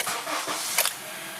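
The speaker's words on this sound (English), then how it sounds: "start the engine" Honda CR-V engine starts after an automatic transmission fluid change, a short cranking whir that catches and settles into a steady idle hum, close and alone.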